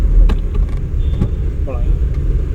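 A car on a driving-school lesson drives along the road with a low engine rumble and road noise close by inside the cabin, while a person talks over it.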